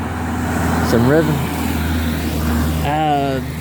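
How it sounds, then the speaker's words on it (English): A car engine hums steadily and rises in pitch in two revving bursts, with voices talking over the motor, in foggy Sapa, Vietnam. "I hear some revving."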